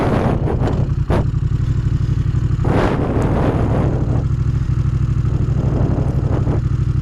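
Aprilia Caponord motorcycle engine idling close by, a loud steady low throb with a few brief revs and clatter on top.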